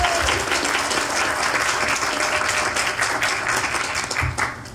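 An audience at a hospital press conference breaks into sustained applause, a dense, loud, even roar of many hands clapping that carries on throughout without voices.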